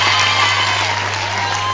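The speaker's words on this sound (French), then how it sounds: "Alors, un grand applaudissement." Outdoor audience applause for students after a school play performance, a dense steady clatter of clapping held at even loudness for the whole stretch, with a low constant hum beneath.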